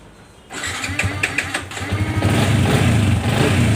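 A Yamaha Vixion motorcycle engine cranks over and catches after a brief quiet start, then settles into a loud, close, rapidly pulsing idle that grows steadier toward the end.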